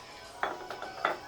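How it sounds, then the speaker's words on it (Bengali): Garlic cloves crushed in a mortar, a few sharp pounding knocks and clinks spaced irregularly over a quiet background. "তো রসুনগুলি এখন ছেঁচে নেব।"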